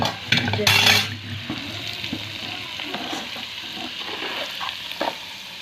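Utensil scraping and stirring a thick amla pickle mixture with tempering oil in a pan, with a soft sizzle underneath and a few clinks of metal against the rim.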